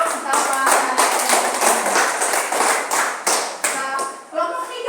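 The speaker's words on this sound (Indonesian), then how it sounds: "Mari kita tepuk tangan untuk kawan." Children in an elementary classroom clap for classmates after a group presentation, a dense patter of many hands sustained for several seconds with a few louder individual claps and voices mixed in.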